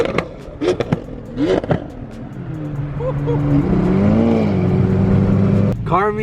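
A BMW M3 running a fully straight-piped exhaust after a valve failure revs loudly and holds a rising, sustained engine drone at a busy car meet. Voices and crowd noise can be heard underneath.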